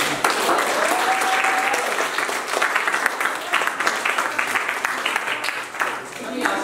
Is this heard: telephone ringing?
no